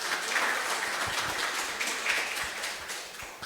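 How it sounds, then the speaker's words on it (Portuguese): Congregation at a church Mass clapping together after a scripture reading, a steady, moderately distant patter of many hands with little talk. "Vamos aplaudir a palavra de Deus."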